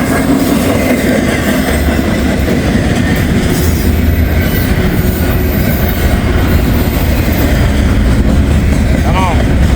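A loud freight train on the Newcastle subdivision rumbles past close by trackside, steady heavy rolling noise with wheels clacking and a brief high squeal near the end.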